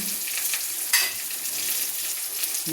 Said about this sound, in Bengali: আলু দিয়ে কষানো হয়ে গেছে, ভাজা ভাজা করা হয়ে গেছে, কষানো হয়ে গেছে।